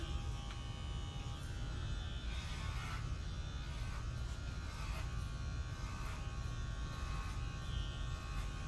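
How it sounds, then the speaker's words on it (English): Electric hair clippers buzz steadily while cutting an inverted bob, a continuous low motor hum up close with faint shifts in tone as they move through the hair. Nobody speaks. "And you can take your clipper."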